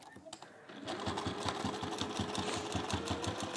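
A sewing machine stitches a quarter-inch seam on a folded fat-quarter bag, starting after a short pause and running in a close, steady, fast rhythmic chatter to the end.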